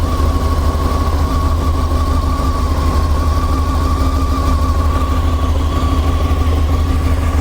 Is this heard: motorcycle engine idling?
yes